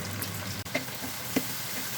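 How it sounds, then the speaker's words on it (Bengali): Spice paste frying in hot oil with salt, a steady soft sizzle with a couple of faint knocks of a spoon stirring in the pan, close and quiet, no voices. "পরিমাণ মতো লবণ দিয়ে একটু কষায় নেব"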